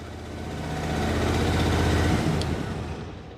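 Mini excavator diesel engine running just after a cold start at minus seven to eight degrees, a steady close rumbling idle that swells and then settles slightly, no talking.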